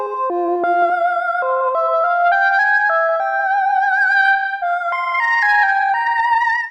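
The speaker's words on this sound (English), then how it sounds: "I found this cool little preset called Throaty Solo." Lead melody from a DSI Pro 2 synthesizer on its Throaty Solo preset, a voice-like sung tone stepping through a slow, eerie line of sustained notes with bright harmonics, loud and alone.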